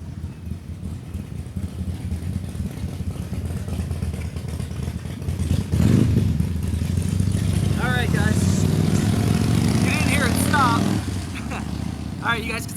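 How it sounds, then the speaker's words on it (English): A low engine rumble swells and lingers as motorcycles pass nearby, over continuous background noise with faint voices. "The motorcycles drove by"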